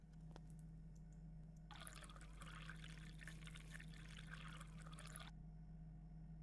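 Water poured from a container in a pizzeria-themed indie horror video game, a steady filling gush that starts abruptly, runs for about three and a half seconds and cuts off cleanly, heard alone over a low electrical hum.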